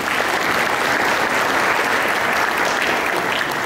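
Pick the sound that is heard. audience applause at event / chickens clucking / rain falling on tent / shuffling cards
audience applause at event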